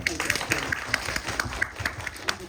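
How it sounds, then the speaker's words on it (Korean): Audience clapping at a Korean film screening's guest talk for the movie Nokya, a patter of steady applause from a seated crowd with a voice faintly present underneath. "1만 관객을 돌파한 노기아에게도 박수 부탁드립니다"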